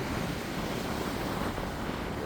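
Steady wind rushes and roars across an open spot at sunset, a dense unbroken blow close to the microphone, with wind buffeting mixed into the hiss throughout.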